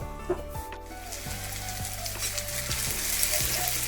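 Onions and a spice paste with tomato fry in a pan for a meat curry, giving a close, steady sizzle broken by several scraping strokes of a spoon as the mix is stirred.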